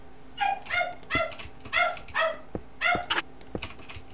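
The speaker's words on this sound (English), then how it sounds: "sorry if you can hear my dog" A pet dog indoors barks and yips in quick bursts, several clustered high-pitched barks with whiny tones, fairly close, followed by a few soft clicks.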